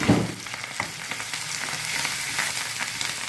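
White brinjal frying in oil with curry leaves, turmeric and green chilli-cumin paste, a steady close sizzle with a brief louder crackle at the start and faint stirring clicks throughout.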